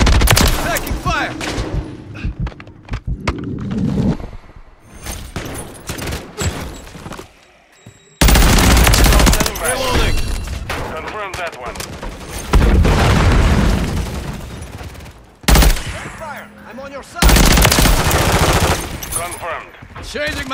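Call of Duty MW3 gameplay on the Stashouse map, with bursts of automatic gunfire and booming blasts coming in heavy waves, broken by short lulls, while clipped radio-style voices speak over the battle.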